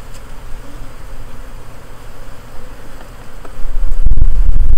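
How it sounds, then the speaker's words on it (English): Honey bees swarm around an opened hive in a steady, close, droning buzz that keeps going throughout, with a deeper rumble of handling noise building at the end. "we're helping the bees."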